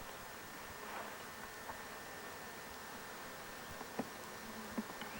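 Honeybees in an opened hive after a light puff of smoke, a soft steady hum close by, with faint occasional clicks of frames being handled and no talk.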